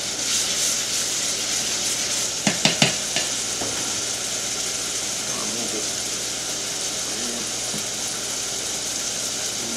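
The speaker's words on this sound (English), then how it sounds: "And you give it a stir it every now and then" Onions and peppers frying in a pot give off a steady, bright sizzle throughout, broken early on by a few quick clacks of a spoon stirring against the pot.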